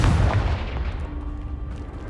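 A Confringo spell blasting apart a pile in the video game Hogwarts Legacy, a loud booming explosion at the start that rumbles and fades over a couple of seconds.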